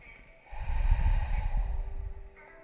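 A single deep, slow breath during a yoga flow, a soft airy inhale rising into a long, close, hissing exhale with no talking.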